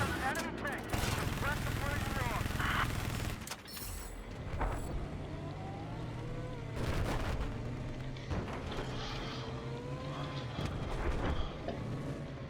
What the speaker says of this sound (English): now I'm shooting an invisible object